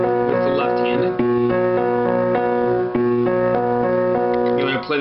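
A single chord is struck over and over by the left hand in the bridge of a song, sounding at an even, moderate pulse, clear and close, with no voices.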